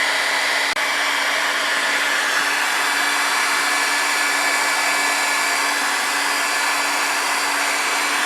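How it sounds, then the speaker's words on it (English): A heat gun warming a stuck engine piston to free its rings blows with a loud, constant whirring drone that holds unchanged throughout, with no voices. "About 10 minutes with the heat gun."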